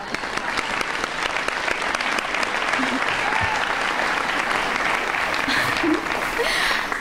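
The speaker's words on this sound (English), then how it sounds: "So you owe a round of applause" An audience applauds the parents of students at a Ridley College Lower School ceremony, a steady, dense wash of clapping that holds evenly for several seconds.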